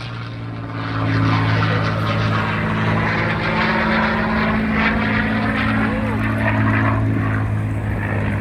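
A CA-18 Mustang fighter flies at an airshow, its loud propeller engine holding a strong, steady drone as it passes, with a commentator talking over it throughout.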